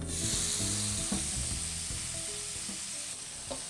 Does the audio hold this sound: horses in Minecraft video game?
no